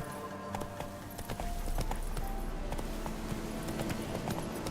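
Roach, a horse in The Witcher 3 video game, gallops with rapid, steady clip-clop hoofbeats, close and continuous, with a brief whinny-like sound and a faint background hum.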